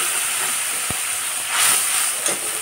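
Fennel and spice paste hitting hot tempering oil for Bengali shukto, a loud steady hiss with a brief knock and a swelling burst of sizzle midway, heard up close without voices.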